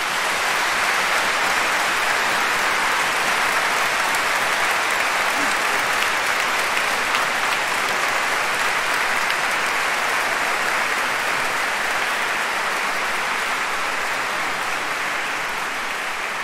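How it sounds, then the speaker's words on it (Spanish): An audience applauds a choir at an Aragonese folk event, a long, even roar of many hands clapping at moderate level that holds steady throughout before easing slightly at the end. "les quiero pedir un fuerte aplauso para ellos."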